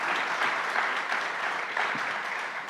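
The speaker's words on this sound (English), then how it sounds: "Can we please give a round of applause for our candidates?" Sustained applause from the audience at a Johnson County Community College Board of Trustees candidate forum, dense and steady clapping filling the room with no talk over it.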